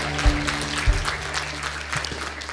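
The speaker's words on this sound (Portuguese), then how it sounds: "Dê uma salva de palmas para ele." Congregation applauding during a Sunday consecration service in a church, a steady wash of clapping over a low hum from the sound system, with two soft thumps early on.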